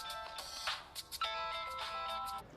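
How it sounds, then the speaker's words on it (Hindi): An electronic phone ringtone plays a repeating melodic ring in a tense scene from a Hindi action film, with a few short bursts over about two and a half seconds. "ये उसी का फोन है।"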